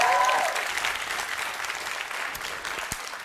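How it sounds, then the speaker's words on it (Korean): Applause from a lecture audience at Kangwon National University, a dense wash of many hands clapping that starts loud and then tapers slightly while continuing steadily throughout. "이쯤에서 박수를 한번 쳐줘도 되지 않을까 싶습니다"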